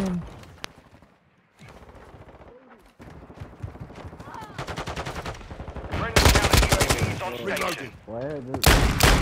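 Rapid bursts of gunfire from Call of Duty: Modern Warfare II crackle loudly and repeatedly, building to dense automatic volleys, while players talk over the shooting.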